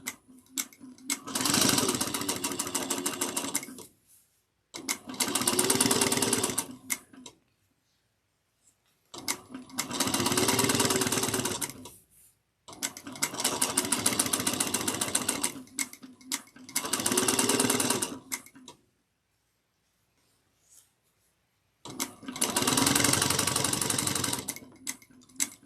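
A sewing machine stitches a bag in six sharp bursts of rapid mechanical chatter, each lasting a few seconds and separated by quiet pauses, close and loud with no talk.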